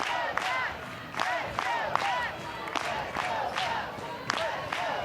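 A softball stadium crowd cheers for its team at an NCAA regional game between Oregon and Stanford, with steady roaring voices and repeated rhythmic shouts swelling in waves, heard from a distance with no clear talk on top.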